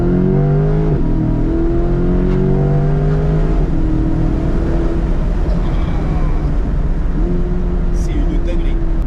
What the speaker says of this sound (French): on va ouvrir les fenêtres et on va écouter un peu la mélodie du V8 6 litres